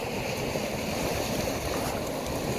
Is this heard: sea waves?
yes